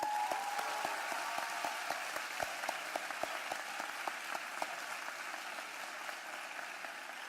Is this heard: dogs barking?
no